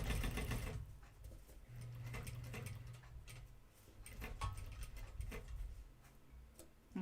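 A sewing machine stitches through jeans denim with a rapid, steady mechanical whirring and ticking, close and continuous, briefly slowing in places.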